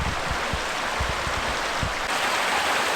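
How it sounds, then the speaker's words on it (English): Creek water flowing fast in East Boulder Canyon, a steady broadband rushing wash from just below, with scattered splashes and burbles breaking through. "there is a lot of flowing water."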